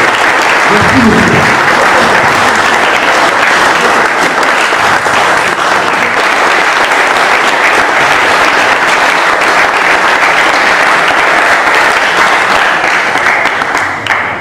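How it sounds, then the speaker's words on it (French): Loud, sustained applause from a large crowd, dense and continuous for the whole stretch, with a brief voice near the start. "Je vous demanderai de l'applaudir bien fort."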